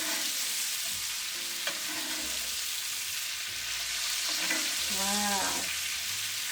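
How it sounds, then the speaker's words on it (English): A steak sizzling loudly in a hot pan while being basted, with steady frying hiss and occasional spoon scrapes and stirring sounds throughout, and a brief exclamation from a voice. "I'm going to turn off my heat, and I'm going to keep basting."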